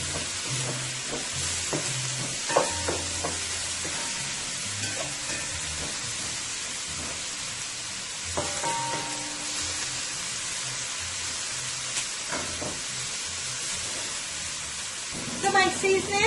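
Seasoning and sauce sizzle and fry in hot oil in a pot for a Caribbean turkey stew, a steady close crackle with intermittent scraping and stirring knocks throughout.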